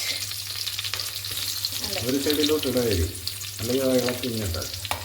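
Curry leaves and ginger garlic paste sizzle and fry in hot oil while being stirred, a steady close crackle with scraping strokes, and a voice talking over most of it.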